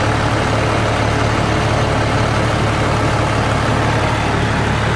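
An MWM six-cylinder diesel engine idling in a Chevrolet Silverado, recorded close up as a loud, steady low rumble with a constant hum and no break or change in pace.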